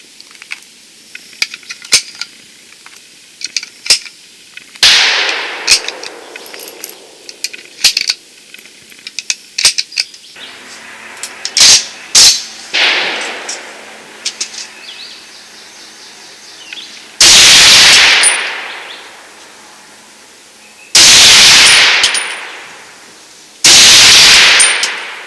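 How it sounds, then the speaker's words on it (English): An Inland M1 Carbine firing at targets 100 yards away, a run of sharp cracks with metallic clinks between them, then three much louder, longer booming reports toward the end, with no talking. "I'm going to shoot it out at 100 yards and get some groups"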